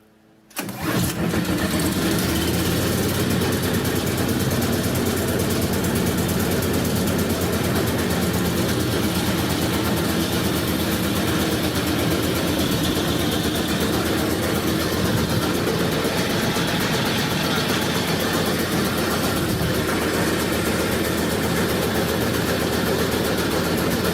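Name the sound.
Predator 301cc engine idling on Snapper snowblower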